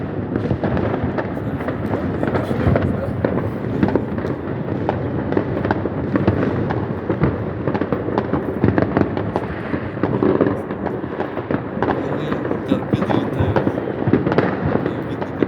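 Salute fireworks bursting outdoors in the rain: a dense, continuous barrage of crackling pops and booms for the whole stretch, with people talking faintly underneath.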